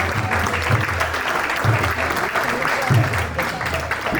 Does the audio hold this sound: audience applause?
yes